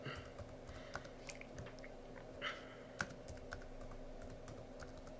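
Faint, irregular keystrokes on a computer keyboard as a sudo make install command is typed on a Pop!_OS Linux machine, with scattered clicks and a few louder taps over a quiet background.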